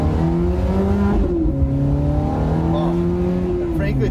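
A 2006 Ferrari F430 Spider's brand-new V8 engine revs loudly and close, its pitch climbing, dipping and rising again in a continuous throaty drone.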